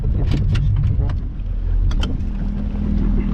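A Lotus sports car running a cone course, heard from inside as a steady loud engine drone with heavy wind buffeting and a few short squeaks or clicks layered on top.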